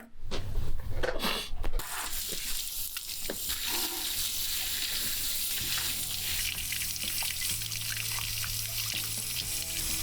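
Tap water runs steadily as soil is rinsed from the roots of a Western kamatsuka (Photinia) being reworked into a small bonsai, a continuous close splashing after a few louder knocks at the start.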